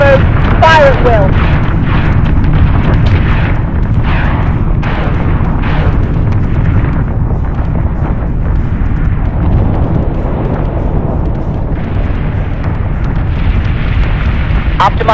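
Fleet batteries fire and shells explode in the space-combat game Battlestar Galactica Deadlock, a constant loud roar of rumbling blasts and booms while a voice talks over the barrage.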